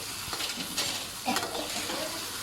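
Chili and garlic stir-fry in a hot pan, a close, continuous sizzle with brief bursts where the spatula tosses and scrapes the mixture.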